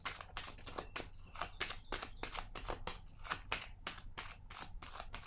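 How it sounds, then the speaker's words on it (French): A deck of oracle cards being shuffled, with a rapid run of papery riffles and slaps that keeps an even rhythm, close and fairly loud, ending as a card is drawn. "Je vais piger une carte sur l'harmonie à l'envers."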